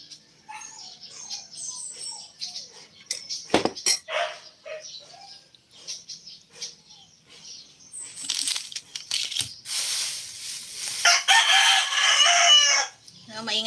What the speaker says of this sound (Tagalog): Maingay pa yung manok dito.